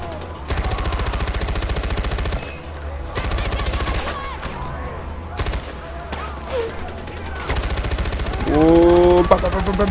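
A machine gun in Far Cry 4 fires long rattling bursts separated by brief gaps, loud and close, with a whistling sweep near the end.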